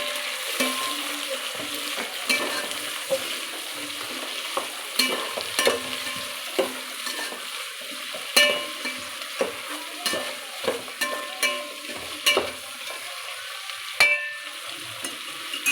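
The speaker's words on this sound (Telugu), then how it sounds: "ఇందులో కట్ చేసిన టొమాటో అండ్ పొటాటో వేసేసుకొని" Chopped tomato and potato frying in a pan for bagara rice, a steady sizzle broken by frequent clinks and scrapes of a spoon stirring against the pan, with no talking.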